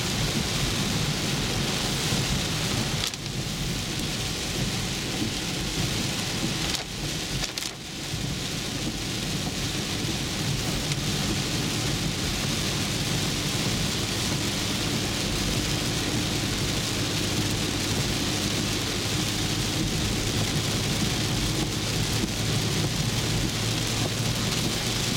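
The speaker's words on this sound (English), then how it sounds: "during a very heavy rainstorm in Manchester, Missouri." Very heavy rain drums constantly on a 2011 Infiniti EX35 driven through a thunderstorm in Manchester, Missouri, a dense roaring wash with occasional deeper rumbles.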